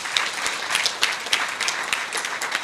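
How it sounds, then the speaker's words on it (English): Sustained audience applause at the handover of a community centre, honouring bricklayers, carpenters and workers; dense, steady clapping from a crowd with no talk over it. "Let's give them a big applause."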